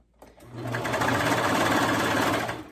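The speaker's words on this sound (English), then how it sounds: "you're just gonna serge right off the edge" A serger overlock sewing machine stitches an elastic fabric hem at close range, starting abruptly and running as a fast, loud, continuous mechanical whir for a couple of seconds before slowing.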